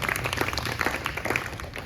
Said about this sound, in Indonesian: Tepuk tangan untuk kawan.